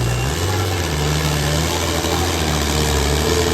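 A tractor engine rumbles nearby at a tractor-trolley competition, a heavy low drone that shifts slightly in pitch as it works.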